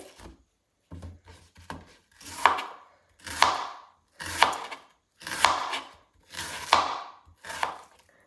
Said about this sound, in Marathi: आता आपण कांदा कट करून घेऊयात. कांदा आपल्याला मोठा चिरून घ्यायचा आहे